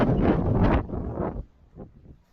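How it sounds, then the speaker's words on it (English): Heavy wind of about 40 mph in Illinois woodland buffets the microphone in loud, roaring gusts, then eases into softer, intermittent rumbles. "It is windy."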